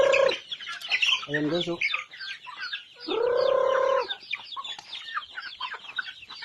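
Organic farm chickens cluck and squawk at feeding time, several birds close by in bursts of clucking and one drawn-out call, while someone talks over them.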